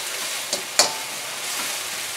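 Onions, garlic and ginger fry in a pan with a steady, close sizzle, broken by a couple of brief clinks or stirring scrapes.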